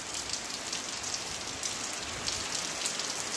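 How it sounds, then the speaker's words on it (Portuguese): Steady rain falls on a rural farm in Saloá, Pernambuco, a constant dense hiss of drops on surfaces, close and even throughout with no voices. "Ó, o barulho da chuva."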